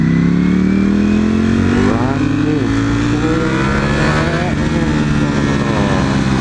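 A car engine revs hard through its range, the pitch climbing and dropping in loud close sweeps, with a voice talking over it.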